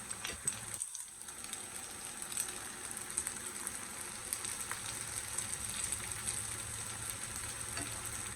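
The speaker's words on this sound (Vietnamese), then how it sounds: "mình cứ chiên từ từ, chiên tới khi nào mình thấy cái miếng thịt nó vàng hết 4 mặt là được" Vegetarian roast pork fries slowly in a pan with a steady, faint sizzle and small popping crackles throughout, no voices present.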